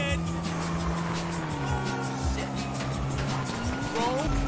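A car engine in GTA V hums and shifts pitch as the vehicle drives and turns onto a larger road, steady and close, with a voice talking over it.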